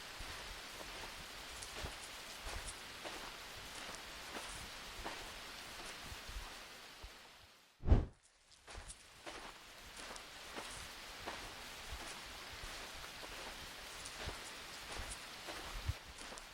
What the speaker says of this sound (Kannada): ಮಳೆ ಇನ್ನೂ ಜೋರಾಯಿತು. ರಸ್ತೆಯಲ್ಲಿ ನೀರು ಹೊಳೆ ಥರ ಹರಿತಿತ್ತು.